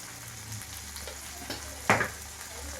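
Tomatoes and salt sautéing in a pan for pumpkin poriyal, a steady low sizzle with soft stirring and one sharper scrape or clatter near the end, close and alone.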